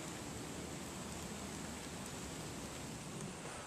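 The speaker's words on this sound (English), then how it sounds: "It's starting to rain, so I'm going to have to stop for the day." Steady outdoor rain beginning to fall on a garden during pruning of an old Yatsubusa Japanese maple, a soft continuous hiss of drops across the whole stretch with no voices.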